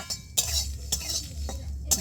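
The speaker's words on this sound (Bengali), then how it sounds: "সরষা আর লঙ্কাটা আমি প্রথমে একটু রুখা করে নেড়ে নিচ্ছি" Mustard seeds and dried red chilli stirred dry in a pan, a spoon scraping and clinking against the metal in several sharp strokes over a low steady rattle, close and alone.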